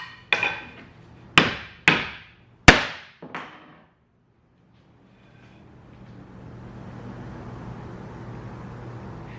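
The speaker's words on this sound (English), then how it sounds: "So poplar, we're gonna take the hammer to it." A hammer strikes a piece of poplar wood five times in an uneven rhythm, each sharp knock decaying quickly, followed by quiet room noise.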